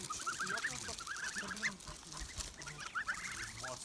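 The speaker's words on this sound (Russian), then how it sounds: "Сейчас пасем гусей." Geese honking repeatedly while being herded in a countryside village, a chorus of nasal calls coming in bursts, fairly close and mixed with outdoor background noise.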